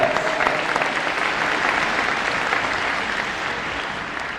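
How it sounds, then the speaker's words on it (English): An audience applauds at the Rock Ridge High School grand opening celebration, dense clapping starting strong and slowly tapering, filling the hall. "give yourself a round of applause"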